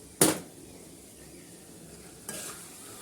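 Sabudana khichdi in a pan, a soft low sizzle bracketed by two clear scraping stirs of a spoon against the pan, one near the start and another near the end, close by with no voices.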